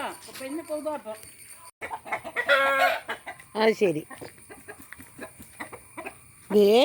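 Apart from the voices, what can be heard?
chickens clucking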